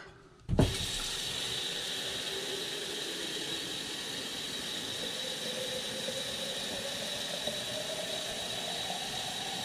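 Tap water runs steadily into a cooking pot with a quart measure of water for a white distilled vinegar pickling brine, starting with a sharp onset and continuing as a loud, even rush with a slowly rising tone as the pot fills.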